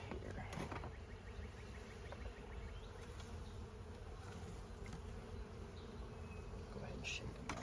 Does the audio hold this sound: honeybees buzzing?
yes